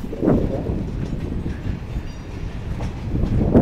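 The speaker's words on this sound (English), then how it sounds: "I noticed that all these railroad cars these days have graffiti sprayed on them." Freight train with graffiti-covered railroad cars passing through an urban area, a steady close rumbling roll of wheels and clattering cars that continues throughout with wind noise.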